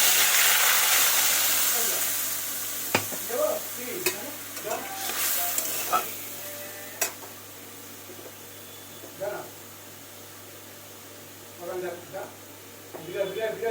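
Prepared spice mix frying in oil with bay leaf and sugar for a jackfruit curry, a strong hiss that fades over the first seconds, then intermittent stirring and soft sizzles while someone talks.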